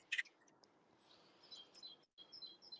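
Small birds chirp faintly in the background, with brief high tweets scattered across a quiet stretch and one sharper, louder chirp near the start; no voices are heard.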